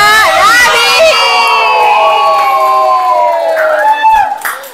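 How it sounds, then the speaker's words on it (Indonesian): Children cheer and shout loudly together for a classmate named Alia, a high excited crowd of young voices rising and falling for several seconds, with little distinct clapping under the yells. "Beri aplaus untuk Alia."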